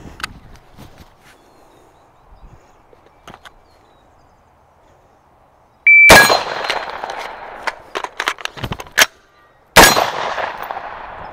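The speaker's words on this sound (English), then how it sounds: "I wanted to hit the little steel target" A firearm with a California fixed-magazine system fires at a small steel target, producing two sharp, loud reports with metallic ringing and clattering after a quiet stretch of faint handling noise.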